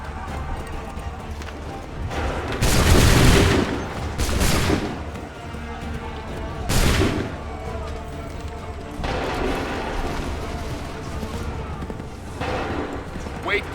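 Musket volleys crash out in the Assassin's Creed 3 video game, with several loud ragged fusillades rolling over a battlefield and shouted commands and hoofbeats between them.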